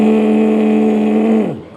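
A voice imitates a vibrating mobile phone with a sustained, buzzing hum that holds steady and then slides down and fades at the end.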